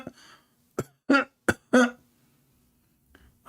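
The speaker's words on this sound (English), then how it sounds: "It's time to cough." A man coughs several times in quick sharp bursts, close and fairly loud, separated by short silences, with a faint voice at the start.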